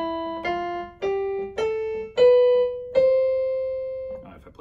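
A fruit piano, with fruits from a fruit basket acting as keys, plays a short electronic tune of six tones stepping downward one by one, each sounding clearly and evenly and sustained with a soft buzzy tone.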